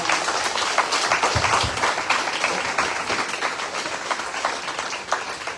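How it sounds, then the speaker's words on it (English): Audience applause at a gathering on protecting Dominica's lands and rivers, a continuous wash of clapping from a room of people, fairly close and loud with no talk. "Let's do a round of applause"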